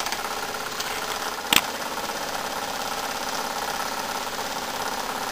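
A Jensen model toy steam engine with a small flywheel runs steadily under power, giving a continuous close mechanical chugging hum with one brief sharp click partway through.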